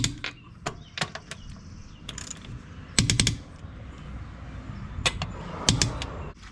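A torque wrench tightens a wheel on a 2022 Corvette C8, giving a series of sharp, close metallic clicks and ratchet snaps in irregular bursts, some doubled or tripled, over a low background hum.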